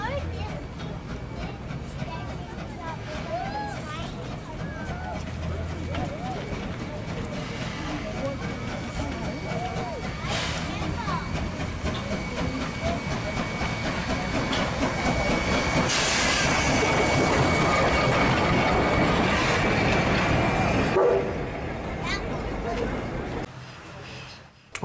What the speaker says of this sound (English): 2705 reverses to the train, preparing for the last shuttle of the day.